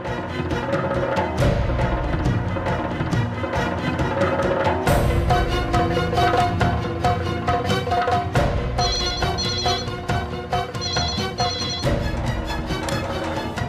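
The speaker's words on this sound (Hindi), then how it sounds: "ये गौरी फोन क्यों नहीं उठा रही है?" A phone ringtone rings repeatedly over a loud musical background, continuing without pause and never answered, with no one speaking.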